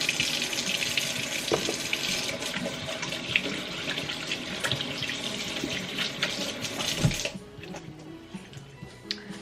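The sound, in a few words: washing hands under a running tap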